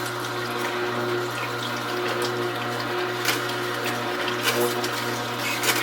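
A Kuvings REVO830 whole juicer grinds celery, a steady motor hum under wet, crunching and squelching juicing sounds, close and continuous with no talking.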